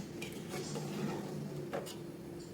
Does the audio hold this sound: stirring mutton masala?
yes